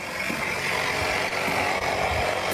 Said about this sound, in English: Sorry about the loud tire pressure. Tire pump.